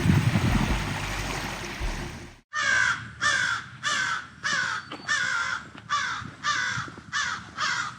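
Crows caw loudly and repeatedly in a steady series of harsh calls, close by, near the water at St. Ignace by the Mackinac Bridge, after a burst of rushing water noise cuts off.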